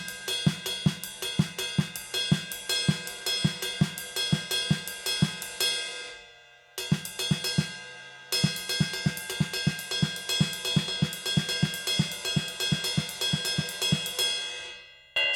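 Samba cascara groove played on a drum kit bell, a steady syncopated metallic pattern over regular low kick beats, close and alone with a brief pause midway.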